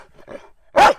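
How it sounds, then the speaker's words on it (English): A mongrel dog gives a single sharp, loud bark close by, preceded by a couple of softer yips or whines. "a dog in good voice"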